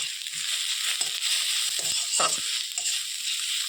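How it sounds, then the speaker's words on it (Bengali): Spices sizzle softly in a hot pan for Bengali rui fish curry, with a steady hiss and occasional scraping stirs. The sound stays close and moderately quiet throughout, and no one talks. "এবার এটাকে আমি ভালোভাবে কিছুক্ষণ নেড়ে দেবো"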